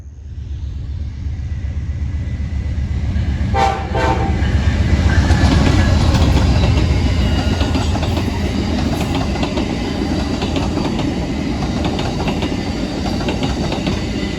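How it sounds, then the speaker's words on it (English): Amtrak 58, the City of New Orleans passenger train, passes northbound on the CN Fulton Sub, a loud steady rumble and clatter of cars close by with a brief horn-like tone early, continuing throughout without talk. "here comes Amtrak 58, the city of New Orleans, headed northbound from New Orleans, Louisiana to Chicago,"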